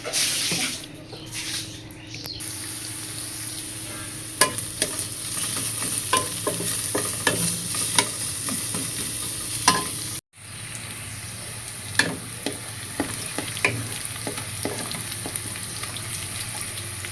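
Oil frying in a pan as a continuous close sizzle and hiss, punctuated by frequent sharp crackles and pops, with a brief interruption midway.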